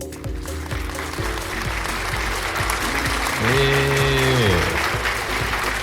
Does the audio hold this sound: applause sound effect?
yes